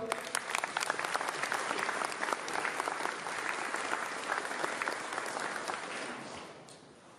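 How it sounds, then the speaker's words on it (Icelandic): Applause from an audience at a performance in Ísafjörður, a dense, even patter of many hands that holds steady and then fades out toward the end. "gefum henni gott klapp"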